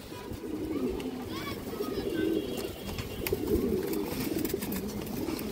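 Pigeon cooing, a large, strong bird of a high-flying fancy breed, comes in repeated soft low coos under steady talk from a nearby man, with faint chirps from other birds in the background.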